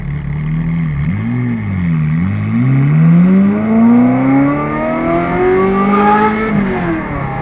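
A Ferrari F355 engine with a loud aftermarket exhaust revs and blips, then climbs steadily in pitch as it accelerates hard, close by.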